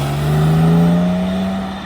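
A Porsche driving past as cars leave a car show at Port Solent, a loud engine note that rises and falls smoothly as it passes close by, with steady harmonic drone and no talk.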